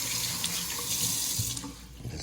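Warm water runs steadily from a tap into a sink, a continuous hissing rush that stays close and even throughout, with no voices.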